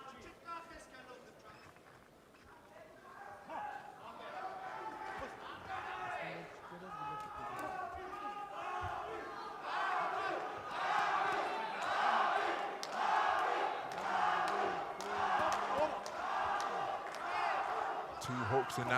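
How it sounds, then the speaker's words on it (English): A boxing crowd at an amateur bout cheers and shouts encouragement for Davit Chalayan, a swelling roar of many voices that grows louder, with a commentator talking over it. "the crowd making their presence felt once again as they continue to encourage Davit Chalayan"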